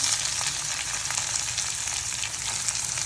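Finely chopped green chillies and onions sizzle steadily in a pan, a loud, even crackling frying sound throughout with no talking.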